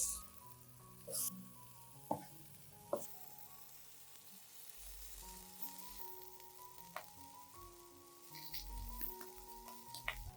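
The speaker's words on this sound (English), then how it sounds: "Place a few slices of tomato on the pan." Tomato slices sizzling in a pan of butter and vegetable oil, a quiet, steady frying hiss with a few light clinks and taps throughout.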